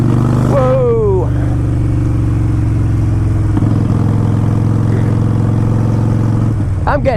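Harley-Davidson Sportster motorcycle in black and orange, its engine droning loud and steady while riding, with a deep rumbling tone throughout and a brief rise in revs near the start and again at the end.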